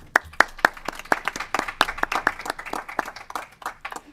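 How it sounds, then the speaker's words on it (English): Applause at a committee meeting: a small group clapping, with a few sharp, distinct claps up front that thicken into a looser, uneven patter, near and moderately loud. "Let's give them a round of applause."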